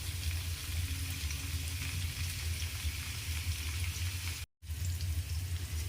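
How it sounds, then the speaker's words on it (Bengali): Pieces of jackfruit fry in hot oil in a pan, giving a steady, close sizzle and crackle with a brief dropout near the end. "ভাজা হয়ে গেছে, এর থেকে বেশি আর ভাজবো না।"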